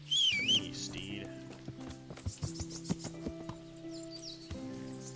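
A summoned horse arrives in the medieval video game Kingdom Come Deliverance, with a whinny at the start followed by a run of close clip-clopping hoofbeats that slow and settle.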